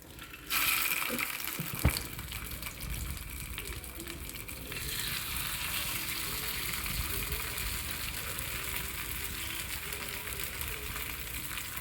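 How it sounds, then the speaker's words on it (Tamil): Fish in a homemade masala marinade fries in a pan with a steady, close sizzle that starts suddenly and holds for the rest of the clip, with a brief clatter near the start and no talking. "மீன் ஊறிடுச்சு. இப்போ பொரிச்சு எடுக்கலாம்."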